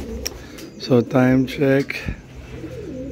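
Pet birds coo softly and repeatedly during a night feeding, a pair of throaty, rolling coos close by while someone talks briefly.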